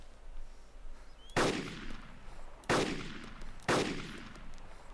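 Three loud, sharp gunshots in DayZ, evenly spaced about a second and a half apart, each with a long decaying tail, ringing out over quiet ambient background with no talking.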